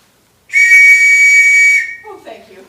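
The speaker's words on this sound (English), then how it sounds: "Hey, a police whistle, that's a sporting whistle" A police whistle blown once, a shrill, loud, steady blast held for over a second, then cut off, followed by a brief faint murmur of a voice.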